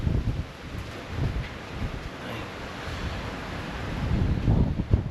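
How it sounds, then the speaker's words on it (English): Gusty wind picking up outdoors, roaring and buffeting against the microphone in uneven surges, loud and close throughout with no talking. "This wind's picking up."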